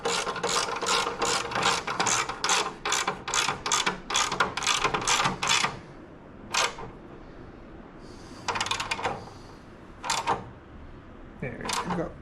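A ratchet tightens the bolts of a plastic fairing on a 2020 Harley-Davidson Low Rider S, giving bursts of rapid, bright clicks in a quick rhythm and then a few short, separated strokes, close and loud, with speech also present.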